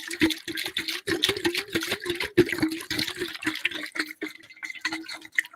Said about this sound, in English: You have to have that nice